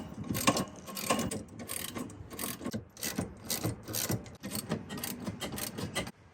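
Ratchet wrench with a 9/16 socket tightening bolts on Outta Hand Fab PRP seat brackets in a Jeep JK, giving rapid repeated clicking pawl strokes in quick bursts, fairly close and moderately quiet, with no talk.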